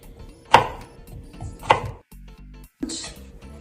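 A knife slices cucumbers lengthwise on a board for pickles, giving two sharp, close chops about a second apart followed by quieter handling and a brief clatter.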